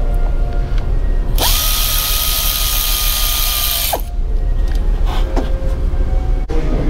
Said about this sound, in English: Go ahead and remove this T30 right here